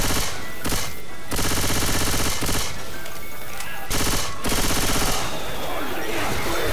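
Rapid automatic gunfire from Left 4 Dead 2 co-op play, loud and close, rattling in sustained bursts with brief pauses between them and dense rhythmic shots throughout.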